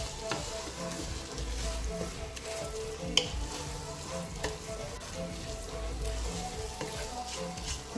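Washed rice sizzles quietly in a coconut-milk jollof stew as it is stirred, a low continuous frying hiss with occasional light spoon knocks, no voices.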